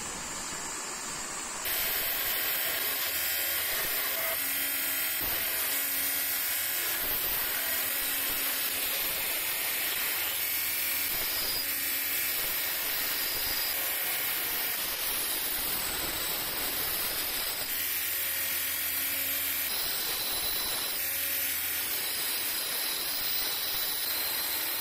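A blade is sharpened on a belt grinder: a harsh, continuous grinding hiss of metal against the abrasive belt runs throughout, loud and steady with slight changes in pitch and pressure.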